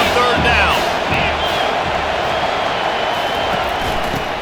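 A stadium crowd in the College Football 25 video game roars steadily on third down, a broad sustained wash of cheering and whoops that swells as the defense is urged on, with a commentator talking over it.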